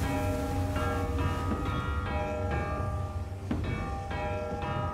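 In Telltale's The Walking Dead: The Final Season, a bell clangs repeatedly against a train car in an uneven rhythm, ringing metallic strikes layered over a steady low rumble of machinery.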